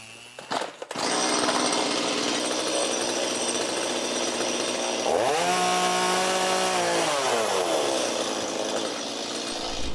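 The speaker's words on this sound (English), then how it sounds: "In a way, most saws are removing some material, but none remove material like a chainsaw." A chainsaw runs steadily at close range after a sharp start, with a loud continuous buzzing drone and a clear rise and fall in engine pitch partway through.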